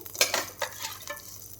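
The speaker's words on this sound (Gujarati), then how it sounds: "હવે આપણે આ બટેટાને ફ્રાય કરવાના છે।" Potato pieces stirred in hot oil in a pan on a gas stove, a few scraping stirs with a soft sizzle underneath, close and fairly quiet.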